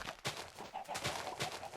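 Chickens in Minecraft clucking in short, repeated bursts, close and fairly quiet, with several rapid squawks over a brief span.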